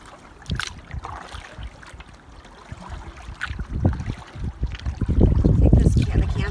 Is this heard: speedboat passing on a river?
yes